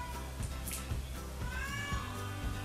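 Indoor cat meowing, a couple of short, fairly soft mews heard close by over a quiet room hum.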